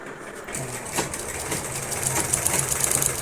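A sewing machine stitches a sweetheart neck border, its motor whirring steadily close by with a rapid mechanical needle rhythm that builds slightly in loudness, running alone without talk.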